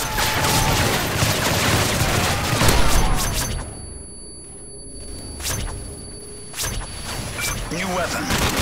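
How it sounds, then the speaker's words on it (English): Sentry gun in Call of Duty Modern Warfare 3 Chaos Mode, rapid automatic bursts of gunfire with booms, loud and dense through most of the stretch, with a brief lull midway and game voice announcements over it. "Sentry gun."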